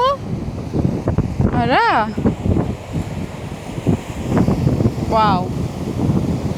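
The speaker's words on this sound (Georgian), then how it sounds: "ზღვის ჰაერი ჩავისუნთქოთ." Sea waves wash against a shore while wind buffets the microphone in a continuous rushing roar, with people talking over it.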